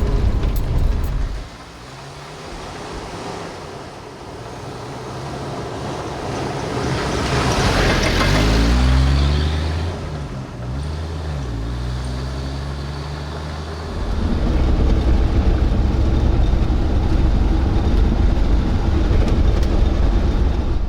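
A restored 1993 Jeep YJ on a road test drive, its engine and road rumble steady and close, rising and surging in the middle before settling into a continuous drone, with no talking.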